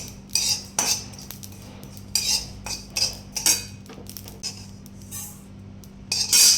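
Metal spoon scraping and clinking in a pan while roasted shahjeera is taken out, several short close scrapes in quick irregular bursts with a steady low hum underneath.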